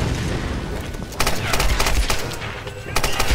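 Gunfire in the video game Tomb Raider rattles out in repeated sharp bursts over a dense, loud game soundscape, with the shots close and clustered.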